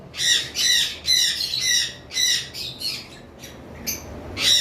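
Close, shrill squawking from lovebirds, a run of rapid harsh bursts that thin into scattered calls before one more burst at the end.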